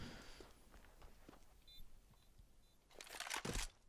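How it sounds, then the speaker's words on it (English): Faint footsteps echo through the Dust2 map in Counter-Strike, soft scattered steps under a low background, ending in a louder, busier burst of sound. "Depends if Forest hears these footsteps."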